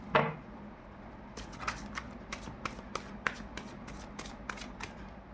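Tarot cards shuffled by hand in a quiet room, a soft initial riffle followed by a steady run of light, crisp card slaps and flicks repeating about every half second, close and fairly quiet.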